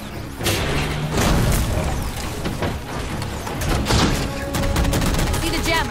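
Sustained bursts of gunfire from Halo 4 fill the whole stretch, rapid shots layered with booms and mechanical clatter, loud and close, with voices speaking over parts of it.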